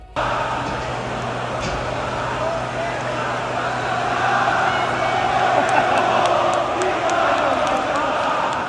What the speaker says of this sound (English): the crowd chants he's banned from Japan